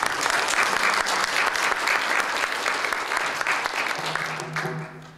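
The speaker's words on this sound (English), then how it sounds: "Let's give a round of applause." Audience applause fills a library panel event in Anchorage after a film screening, a dense steady clatter of many hands that holds for several seconds before tapering off as a voice begins near the end.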